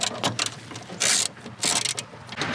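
A socket ratchet with a 10 mm socket backs a bolt out of a windshield wiper motor, a run of quick close clicking bursts with short pauses between them, nearby and moderately loud.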